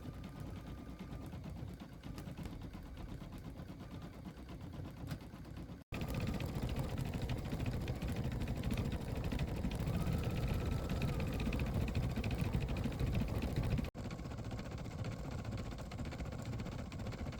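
Single-needle embroidery machine stitching out a design, a steady close mechanical hum with fast rhythmic needle chatter running continuously, pausing briefly twice before resuming.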